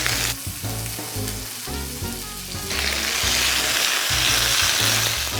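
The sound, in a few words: seafood scallion pancake frying in a pan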